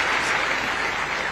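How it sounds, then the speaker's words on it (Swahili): An audience applauds the local staff who designed and built the Kirinyaga County hospital, steady dense clapping that fills the moment at a strong, even level. "Wapigiwe makofi."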